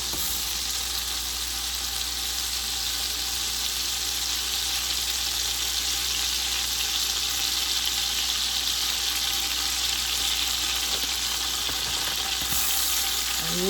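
Three sticks of butter melting in a pot on a stove at medium heat for a seafood broil: a dense, steady hiss of sizzling that runs unbroken throughout, close and fairly loud, with no voices.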